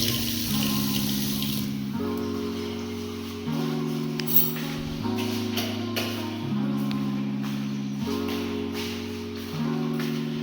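Water runs steadily from a tap in the upstairs kitchen of a ready-to-move 5BHK house, a continuous flowing hiss over a layered, droning background hum, with no one speaking.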